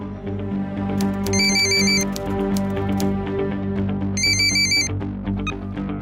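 A telephone rings in two bursts of electronic trilling over a loud, dense musical background.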